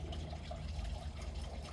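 Water runs steadily in a garden, a continuous low rushing and trickling that stays even throughout; faint and close, with no voices over it.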